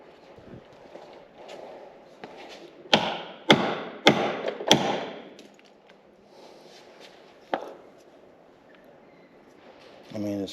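A damaged 1999 Audi body part takes a series of sharp hammer blows: a few light taps, then four heavy strikes in quick succession, a lone later hit and a final dull knock. Brief speech is heard between the strikes.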